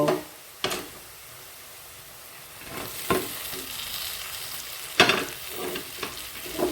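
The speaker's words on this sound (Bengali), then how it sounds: "এখন ফ্রাই করা চিংড়ি মাছগুলো দিয়ে দেব।" Fried prawns drop into a pan of cooked-down masala and get stirred, a steady sizzle running throughout with several sharp scraping stirs and clatters, close up and with no voices.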